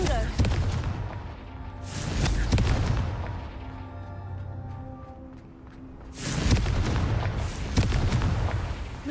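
Explosive Confringo fire-spell blasts in the video game Hogwarts Legacy: loud booming bursts, one near the start, another around two seconds and a heavy pair after six seconds, with rumbling decay and game music between them.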